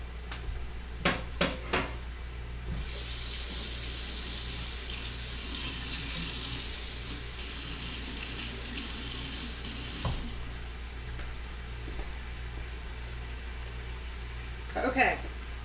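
Tap water runs over a burger spatula while it is washed clean in a sink, a steady close rush that starts and stops, with a few clinks of utensils before and after.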